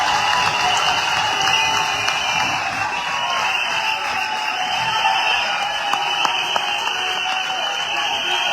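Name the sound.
audience applause welcoming a speaker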